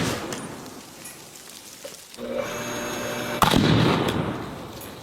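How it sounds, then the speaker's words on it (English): An indium fuse exploding under extreme electric current, a sudden loud close bang followed by a crackling, sizzling burst amid an electrical hum. "I don't think there is a drop of indium left in that fuse. That just completely exploded."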